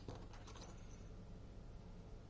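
Keys jangle close by during the handling of a picked and disassembled EVVA DPI lock, a brief metallic rattle at the start that fades into quiet room noise.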